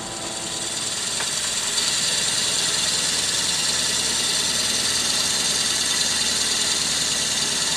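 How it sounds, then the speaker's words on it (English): A drill bores a 5/8 inch hole into the end of a wooden walking stick handle on a lathe, a steady, even machine whir running throughout. "I'm going to drill a 5/8 hole in this end"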